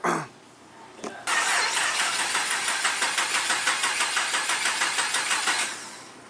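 A Honda Civic engine cranks briefly, then catches and starts, settling into a steady rhythmic chugging idle with regular pulses, fairly close.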